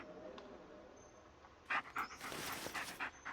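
A dog panting in the Blair Witch video game, quick soft breaths close by with a few sharper huffs and rustles, faint game ambience underneath.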